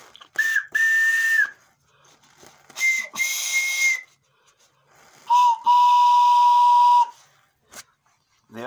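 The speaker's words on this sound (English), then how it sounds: "They all go off at once, and you have a train whistle." Three separate blasts from a handmade multi-tone train whistle, each a sustained breathy tone with a slight upward bend at the start, the last one lower in pitch, with short silences between.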